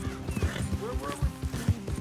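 A mare's hooves clip-clop in a quick, even rhythm in Red Dead Redemption 2, close and clear, with a snort or whinny and someone talking over the gallop.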